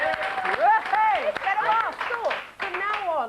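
A studio audience applauds on a BBC morning television show, a steady patter of clapping heard beneath a host talking over it.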